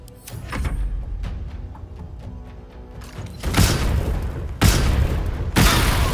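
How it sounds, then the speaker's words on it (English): Bombs going off in the video game Baldur's Gate: after scattered light thuds, three loud broadband blasts land around the middle and end, each with a sharp onset and a sustained roar, close and alone. "Oh, all the bombs are exploding."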